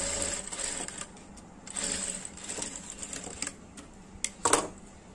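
A sewing machine stitches a blouse belt pocket nearby in short whirring runs separated by pauses, with a few sharp clicks and taps near the end, fairly faint and with no talking.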